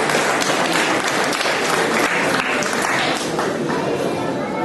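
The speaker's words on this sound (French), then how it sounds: "On peut les applaudir" Dense, continuous applause from an audience at a comic-festival prize ceremony, loud and close, filling the whole moment without a break and with no voice over it.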